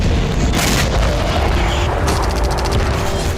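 Booming explosions in war footage from Ukraine, a continuous loud rumble with heavy blasts and a burst of crackling, rapid reports toward the end.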